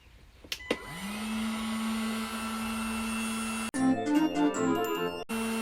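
A DeWalt 18V cordless heat gun switched on after a couple of clicks, its fan spinning up to a steady, close whirring drone with a constant tone, then briefly changing pitch before cutting off.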